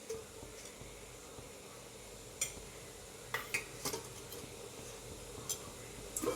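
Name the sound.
bowl set into a perforated steaming plate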